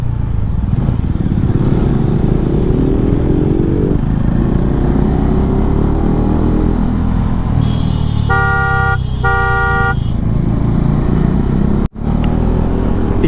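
A Bajaj Dominar 400 motorcycle rides a winding hill road at night, its engine droning steadily and shifting in pitch, while a vehicle horn blares twice in short bursts near the end.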